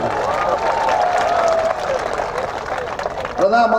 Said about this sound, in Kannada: ಹೊಡೆಯೋದಾದ್ರೆ ಜೋರಾಗಿ ಹೊಡೆಯಿರಿ ಚಪ್ಪಾಳೆ